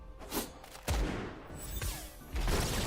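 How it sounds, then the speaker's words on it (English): A tank's gun firing as an attack in a video game: several heavy booming shots with deep thuds, spaced apart over a rumbling game backdrop. "Although the tank gunshot thing is quite good."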